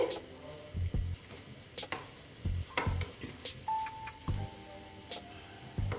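Spinach pakoras fry in hot oil with a steady, soft sizzle while they are flipped. Regular knocks and scrapes from a utensil against the pan break through the sizzle about every second.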